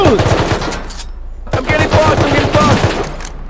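Rapid automatic gunfire from the survival video game Rust, loud bursts of close shots in quick succession with a short pause before another volley.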